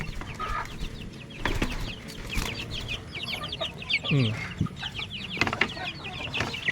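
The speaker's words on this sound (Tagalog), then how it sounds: "Mga sisiw po ito. 1 month na halos." Chicks about a month old, a Rhode Island Red cross, cheep and peep on a farm among clucking fowl, with scattered calls and rustling at close to moderate distance.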